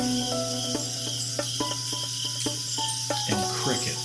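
Steady, continuous insect chirring forms a constant high-pitched bed, with a few sharper clicks and short tonal chirps over it; crickets heard alone at moderate level, with no voices.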